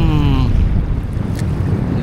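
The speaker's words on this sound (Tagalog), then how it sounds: "Hirap salubungin ng hangin guys." Strong headwind roars across the microphone on a river while fishing from a boat at Sabang, a steady loud low rumble with no talk.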